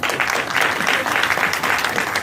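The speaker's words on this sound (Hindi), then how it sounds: "उनके लिए एक बार जोरदार ताली।" Loud, sustained applause from a large crowd, dense rhythmic clapping throughout.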